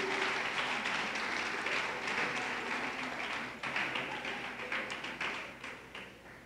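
Applause from a church congregation, a dense patter of many hands clapping steadily that thins and fades toward the end.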